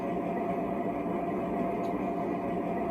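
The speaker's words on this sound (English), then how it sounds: "I've switched the locomotive back into forward motion" An LGB Amtrak Genesis model locomotive runs forward with a steady, even mechanical hum and rumble that continues without a break and stays fairly close.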